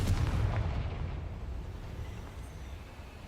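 A Confringo spell explosion in the video game Hogwarts Legacy, a deep rumbling boom that starts strong and slowly decays over a few seconds, with no talking.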